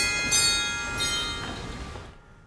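Glockenspiel stop on a Wurlitzer theatre organ, a few bright, ringing metallic notes struck in sequence that shimmer and decay into silence, played alone without talking.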